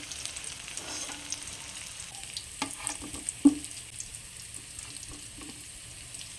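Pumpkin slices frying in oil in a pan, a quiet, low sizzle with occasional clinks and small knocks of a utensil, close by and faint overall.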